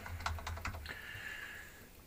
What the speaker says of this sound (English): I'm just going to make a new folder, and I'm going to call it my folder.